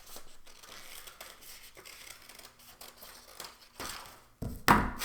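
Scissors cutting out a paper stencil: quiet, intermittent snips and rustling of paper close by, ending in a louder crinkle and handling noise.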